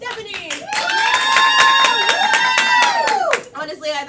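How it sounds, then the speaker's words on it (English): Audience clapping to vote at a Halloween game show event, a dense burst of hand claps mixed with loud tonal vocalizing and crowd noise, dropping off sharply toward the end. "clap if you want to see Stephanie."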